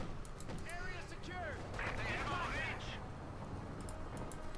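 Mortar shells firing and landing in Company of Heroes 2, a Wehrmacht versus US Forces match, with muffled blasts and clatter under the game's battle noise while a commentator talks over it.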